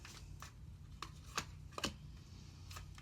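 Tarot cards being shuffled and drawn during a reading, with a few faint, crisp card snaps and flicks scattered over a quiet room hum.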